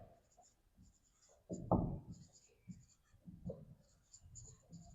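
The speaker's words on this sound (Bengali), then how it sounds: "তাহলে এবার লাইনটা লিখি" A line of math working is handwritten on paper during a Class 5 lesson: faint scratchy pen strokes, with one louder stroke burst, quiet and close.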